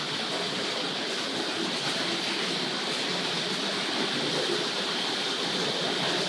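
A Hornby King Edward model locomotive runs on its track with a steady, even rushing whir that holds unchanged throughout, close and moderately loud, with no voices.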